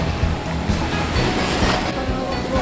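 Sea waves wash continuously onto a provincial beach, a steady broad surf roar with wind rumble close to the microphone and no pauses across the short stretch.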